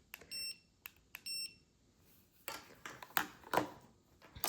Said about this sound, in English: it will beep.